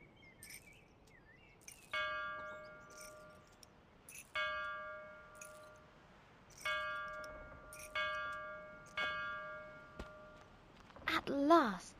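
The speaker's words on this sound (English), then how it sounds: "The sacred bell to announce her arrival." A sacred bell rings in the fantasy video game Lost Words, sounding as clear, bright chimes struck about every two seconds. Each strike rings out and fades, and a burst of other game sound rises at the end.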